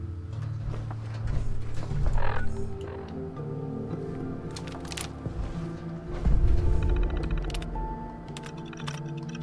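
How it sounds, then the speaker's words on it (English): In Fallout 4, an elevator arrives with mechanical clanks, ticking and a low whirring hum, followed by a heavier clunk and rumble as it settles, all at moderate loudness with steady machinery underneath. "here comes the elevator"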